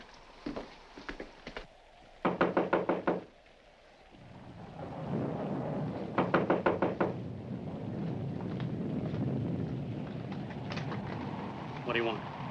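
Someone knocks at a front door in several bursts of quick, sharp raps, each group of four or five hits loud and near, separated by a low rumble of stormy wind and rain.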